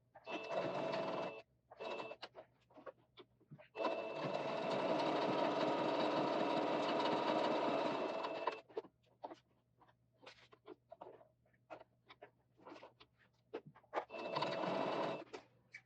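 A sewing machine stitching a shirt collar, running in short bursts and one long steady whir of rapid needle strokes, with quiet pauses and small handling clicks between runs.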